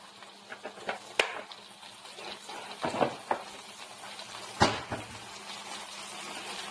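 Soft frying sizzle of pork chops in a pan with oil, scattered crackles and a few sharper clinks and pops, steady and fairly quiet, no talking.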